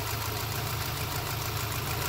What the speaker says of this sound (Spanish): como ven, el motor está normal. Porque si ustedes notan, está temblando.